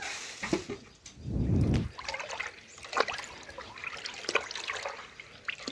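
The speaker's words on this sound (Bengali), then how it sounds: "চাল দিয়ে সঙ্গে সঙ্গে তিন চারবার ধুয়ে নেবেন" Rice washed in water several times, giving wet sloshing and swishing with a brief louder rush of draining water, then scattered small drips and splashes close by.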